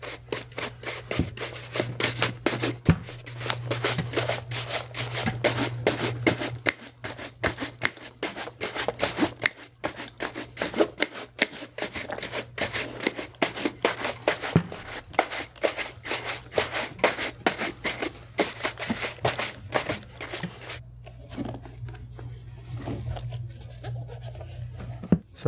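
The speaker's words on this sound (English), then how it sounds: "You can work in circular motions to get all the excess polish out of the perforations," Hands rubbing polish into Horween leather boots with a cloth in circular motions, a steady close scrubbing and swishing that continues for a long stretch under a low hum, then tapers off.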